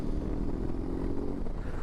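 A new BMW R18 B motorcycle's big engine thrums steadily while riding on the road in Germany, a low, even drone mixed with wind rush.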